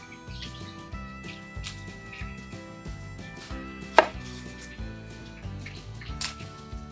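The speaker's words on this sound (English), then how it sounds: "And I need to cut this large onion." A knife chops through a large onion on a board in steady, close, moderately loud strokes, with a sharper louder cut near the middle and music-like tonal background underneath.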